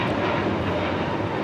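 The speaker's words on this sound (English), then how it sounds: "This is JetBlue 524 taking off to JFK on the A321neo." A JetBlue Airbus A321neo jet takes off from Los Angeles (LAX) bound for JFK, producing a loud, steady broadband engine roar that fills the short stretch without a break.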